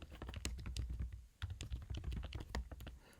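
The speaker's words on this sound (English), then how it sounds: "if I type in some text" Fast, steady keystrokes on a computer keyboard as text is typed into a notebook cell, a continuous run of close, crisp clicks with one short pause midway.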